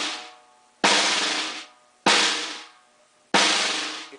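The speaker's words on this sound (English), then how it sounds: "The multi-bounce roll." A snare drum sounds three buzzing multi-bounce roll strokes, each a sharp attack that smears into a decaying press-roll buzz, evenly spaced and close, with silence between.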